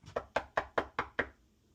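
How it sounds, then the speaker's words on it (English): Six quick, evenly spaced knocks on a door inside a house being cleared after an eviction from a hoarding situation, crisp and fairly close, ending in silence. "Knock knock."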